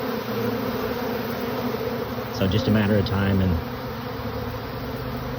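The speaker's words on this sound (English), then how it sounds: "You gotta love bees doing bee things, don't you?" A large swarm of honeybees hums around a swarm trap outdoors in a steady, dense drone that continues throughout, while someone speaks briefly over it near the middle.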